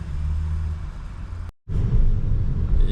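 A Subaru BRZ on its first test drive after an engine replacement, steady engine rumble and road noise close up, broken by a brief silent cut, then resuming slightly louder.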